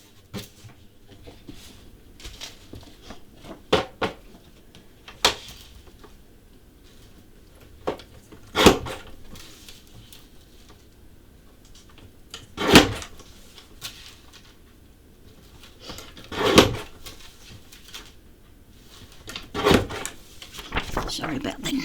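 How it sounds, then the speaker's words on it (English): Paper borders being trimmed give a string of sharp cuts and rustling clicks at uneven intervals, fairly close and moderately loud, during a card-making session with quiet room sound between the snips. "I'm just going to trim these down, trim all these borders off."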